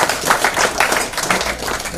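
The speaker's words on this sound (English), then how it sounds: "give yourselves a round of applause" Audience applause at the close of a combat sports competition, a steady wash of many hands clapping that holds through the whole stretch without pause, close and fairly loud.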